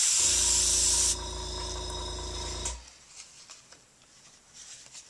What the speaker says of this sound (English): get a very acute angle and just spray